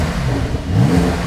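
A Porsche 992 Turbo S fitted with an IPE exhaust revs loudly and close by, a steady deep engine roar with turbo whir that rises slightly toward the end of a brief burst.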